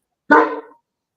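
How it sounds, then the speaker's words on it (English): A single short, loud bark from a big dog, close by, cutting in abruptly and fading within half a second, with silence around it. "that's my big dog"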